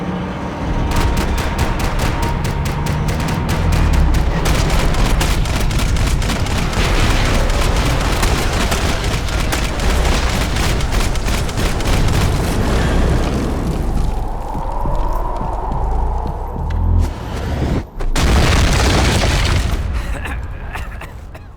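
Rapid bursts of gunfire in the video game Max Payne 3, loud and dense with repeated sharp shots and booming impacts, followed by a short pause and then more blasts, with voices shouting briefly in between.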